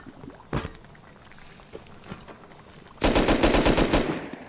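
An auto turret in the video game Rust fires a rapid automatic burst near the end, after a single sharp shot and quieter game noise earlier.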